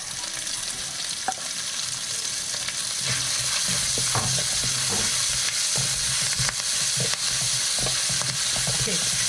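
Chopped shallots, chili and curry leaves stir-fry in hot oil for a potato gravy served with puri, giving a loud, continuous, close sizzle with repeated scraping and stirring strokes throughout.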